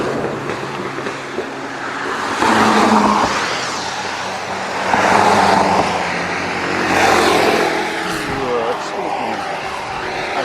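Broadband road traffic roar with passing vehicles swelling and fading, mixed with people talking nearby.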